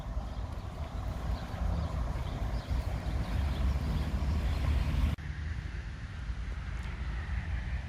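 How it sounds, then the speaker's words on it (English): Steady low rumble of traffic on the busy main road between Warsaw and Gdansk, beside a cemetery in Mława, Poland, a continuous broadband roar with a brief dip partway through. "The noise you can hear beside me, that's the main road between Warsaw and Gdansk."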